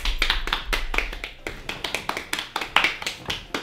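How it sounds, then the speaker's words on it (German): A small group claps for comedian Arafat Alves in an indoor home setting, a handful of sharp, uneven claps close by that thin out into separate slaps toward the end. "einmal Applaus für Arafat Alves"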